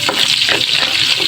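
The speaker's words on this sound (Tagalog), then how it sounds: "Gisa ang sibuyas, bawang." Onion and garlic sauté in fat rendered from fatty pork in a pan for pancit canton, giving a loud, close, continuous sizzle and crackle with no voices.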